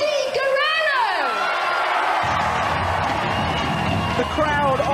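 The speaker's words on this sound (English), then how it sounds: "The crowd on their feet for Eddie Guerrero." Wrestling crowd cheering and whooping for Eddie Guerrero as he arrives, a dense, steady roar of voices with rising shrill whistles and shouts, continuous and loud across the whole moment.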